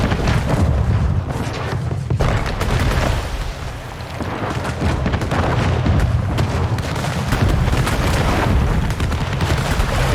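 Cannon fire and explosions in the city-building game Anno 1800, a dense, continuous barrage of deep booms and blasts layered over one another, loud and sustained with no pauses.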